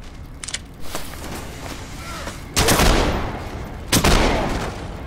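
Shotgun blasts from enemies in the video game Underhell, two loud sharp bursts with decaying tails standing out over ongoing game noise and faint footsteps, a player talking in between.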